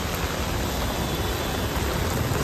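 Heavy monsoon rain pours down in Belapur, Navi Mumbai, a dense, loud, unbroken roar of rainfall with no distinct individual drops and no voices.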